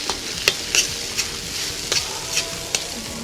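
Meat frying in broth in a cauldron over a campfire, a constant hiss and bubble with occasional scraping stirs and light metallic taps, close and without talk.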